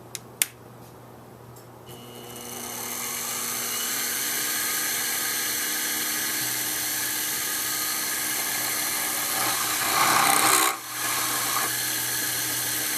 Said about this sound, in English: So I'll center drill all of them and then come back and drill all of them.